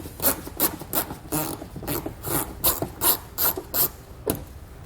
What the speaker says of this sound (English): we're going to grab an 8mm socket and loosen all of those up